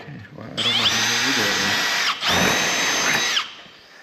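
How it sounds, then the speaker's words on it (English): A small cordless Milwaukee M12 drill whines at high speed in two bursts, the first about one and a half seconds and the second after a brief pause, close up during assembly of a Hummingbird 300L helicopter kit. "A little M12 drill I was never a fan of until we started working on airplanes."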